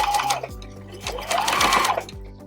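Close by, a sewing machine stitches around the edges of a fabric pillow cover, running in a steady, rapid rhythm of needle thumps with a whirring motor underneath.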